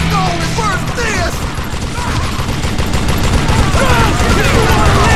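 Rapid gunfire in the Western shooter Call of Juarez: Gunslinger during a train robbery, dense overlapping shots and ricochets crackling continuously and loudly throughout.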